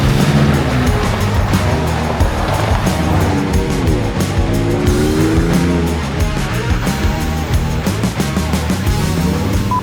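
A Ford Ranger Raptor pickup with the 3.0 V6 petrol engine pulls away, its engine roar and road rumble loud and steady throughout, with no talking.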